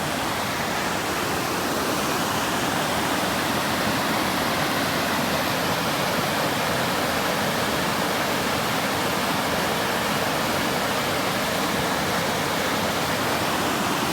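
Water rushing steadily through Clarendon Gorge in rough Vermont country, a loud, continuous broadband roar like a waterfall or fast stream, unbroken and with no voices.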